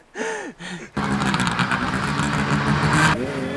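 A snowmobile engine drones as the rider pushes through trees on a backcountry mountain ride: a steady, fairly close mid-pitched roar for about two seconds, with short bursts of voice just before and after.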